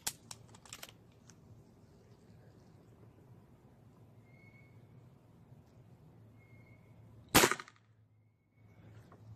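Single sharp crack of a tuned SMK CP1 .22 air pistol with a short barrel, loud and close, followed by a brief ringing tail and near silence against a quiet room hum.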